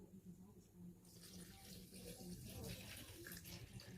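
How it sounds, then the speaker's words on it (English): Water sample pours and splashes steadily into a water quality test system from about one second in, fairly faint, with a voice speaking quietly underneath. "after we already pour the water sample into our system"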